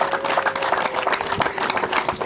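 Wedding guests clap together in a lively, fairly dense burst of applause with a faint sustained tone underneath, the claps close and uneven throughout.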